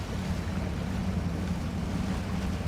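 A truck in the off-road driving game Spintires: MudRunner pushes into water, giving a steady, loud wash of splashing and churning broadband noise with a low rumble underneath, continuous and without talk.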